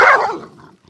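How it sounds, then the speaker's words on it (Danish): A loose dog gives a single sharp, close bark that fades quickly into a short whimpering tail. "Og nu kommer der en løs hund."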